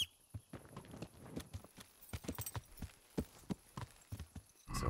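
Horse hooves clip-clop in a steady walking rhythm as a rider travels in the medieval video game Kingdom Come: Deliverance, with faint soft thuds between the hoofbeats.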